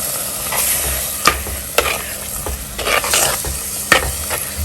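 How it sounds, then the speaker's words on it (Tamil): Tamarind water poured into a hot pan of fish curry, with a steady sizzle under sharp intermittent scrapes and taps of a spoon stirring against the pan. "நான் இப்போ இதில் கரைச்சி வச்சுருக்கிற புளியை இதில் சேர்க்க போகிறேன்."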